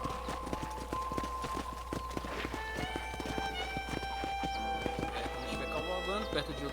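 Horse hooves clip-clop at a steady walking rhythm in Red Dead Redemption, moderately close, under game music and a brief whinny.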